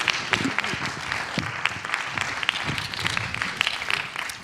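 An audience at a film premiere claps steadily and fairly loudly, dense applause filling the room for several seconds without letting up.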